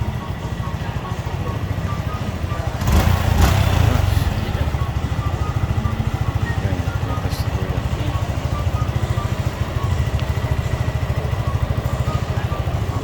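A secondhand motorcycle engine test-running in a warehouse, a loud steady near idle with a fast regular putter, briefly revving up early on before settling back to idle.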